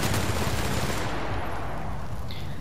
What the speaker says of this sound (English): So I'm just gonna shoot you over and over again.